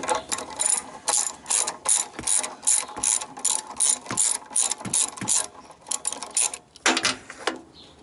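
A ratchet clicks in rapid, rhythmic bursts while turning a bolt on an engine, each stroke a run of sharp pawl ticks, close and distinct with short pauses between strokes.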